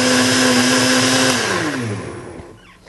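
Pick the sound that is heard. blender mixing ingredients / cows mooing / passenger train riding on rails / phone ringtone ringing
blender mixing ingredients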